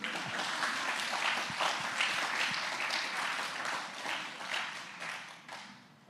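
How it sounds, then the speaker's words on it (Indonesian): A church congregation applauds during a sermon, with dense, sustained clapping across the room that tapers off toward the end. "Tepuk tangan yang lebih kuat ya, Barian."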